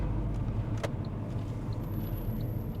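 An eight-year-old Fiat Tipo 1.6 Multijet automatic station wagon with 177,000 km drives through town, heard from inside as a faint, steady low rumble with no talking.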